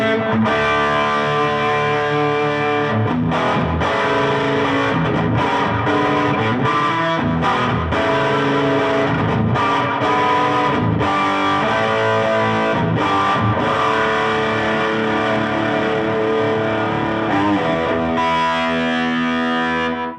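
A guitarist plays an electric guitar through a distortion pedal with a short slap-back delay and the reverb turned off, producing a loud, continuous run of gritty chords and notes with quick repeating echoes throughout.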